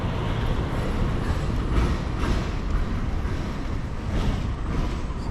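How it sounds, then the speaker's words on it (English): Trams rolling through busy central Belgrade, a steady close rumble of wheels on rails with gusts of wind across the microphone, continuous for several seconds without voices. "Trams there."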